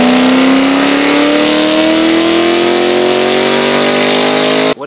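A 700hp supercharged Chevrolet C8 Corvette screams on a dyno, a very loud, sustained engine roar climbing steadily in pitch for nearly five seconds before cutting off abruptly.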